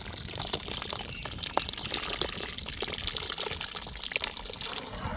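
Tamarind water is poured into simmering beetroot rasam, producing a steady close liquid splash and bubbling hiss that runs unbroken throughout, with no one speaking.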